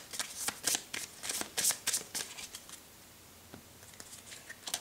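Tarot cards being cut and shuffled by hand, bursts of crisp riffling and flicking that come close and fairly loud at first, then a softer scattering of light card taps, with no voices.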